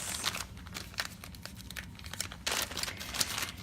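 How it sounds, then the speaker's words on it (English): Heavy gusseted cellophane treat bags crinkle and rustle as they are pulled from a package, with soft, close crackling bursts that come and go, swelling louder near the end. "Pull one out. And they're nice, heavy cellophane."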